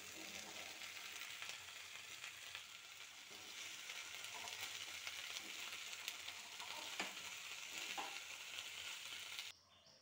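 Potatoes, tomatoes and boiled peas fry together in a pan for aloo matar ghugni, giving a steady close sizzle with faint stirring scrapes that stops abruptly near the end, with no talking.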